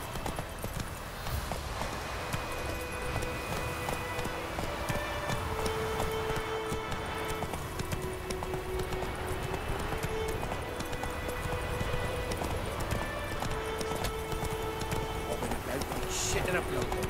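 Steady clip-clop of the horse Roach trotting along a road in The Witcher 3, running continuously under game music and occasional talking.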